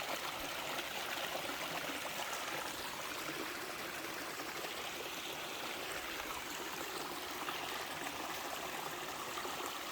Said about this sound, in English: The flow of the water definitely is interesting.